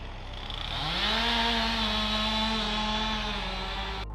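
A chainsaw cutting felled ash trees affected by ash dieback in a back garden, revving up from a lower pitch to a loud, sustained high whine close by, then cutting off sharply.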